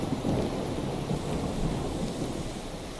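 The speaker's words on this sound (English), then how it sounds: "Did you hear the thunder? That is not normal thunder." Deep rolling thunder with a steady rain hiss in a shader-modded Minecraft world, a loud sustained rumble filling the whole stretch without any voices.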